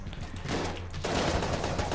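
Rapid-fire gun shooting in the video game Enter the Gungeon, a dense unbroken stream of shots with quick overlapping bursts, loud and close, with no talk over it.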